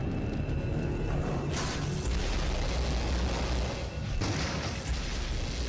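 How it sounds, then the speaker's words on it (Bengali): Bombs go off in a Skibidi Toilet video game, with heavy booming blasts and rumbling bursts that come in waves, the loudest hits arriving around the middle and again near the end, dense and loud throughout. "বম দিয়ে দিল দেখো, তাও কিছু হয় না ভাই।"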